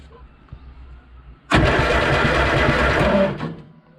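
A Morris Minor engine cranks on the starter for about two seconds with a loud, rhythmic churning but does not catch, then falls quiet.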